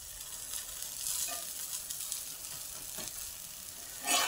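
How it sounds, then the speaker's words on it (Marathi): Moong dal batter with jowar flour, a savoury dhirde, sizzles steadily in a hot pan just after being flipped, a soft continuous frying hiss with a brief louder burst near the end, no talking. "आता आपण पलटी करू परत."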